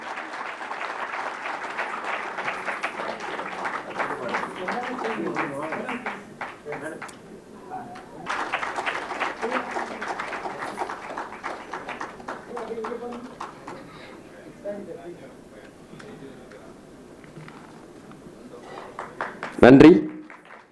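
Audience applause at a Bharatanatyam arangetram ceremony of the Siva Nattiyalaya dance school: a sustained burst of clapping, a short lull, then a second wave that gradually thins out, ending with a single loud thump.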